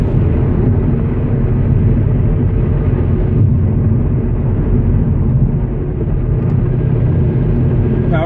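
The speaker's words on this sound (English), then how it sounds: "Power shifting is when you do not lift off the accelerator when shifting." A Ford Mustang accelerates hard while power shifting without lifting off the throttle, a loud continuous engine roar and rumble heard close, sustained with only a brief dip across the run.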